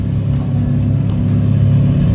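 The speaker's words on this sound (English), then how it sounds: "There's an old car about to pass me right now." An old car overtakes a motorcycle on a Blue Ridge Mountains road near Hot Springs, its engine a loud, steady low rumble blended with wind and road noise, holding level for the whole stretch without any voices.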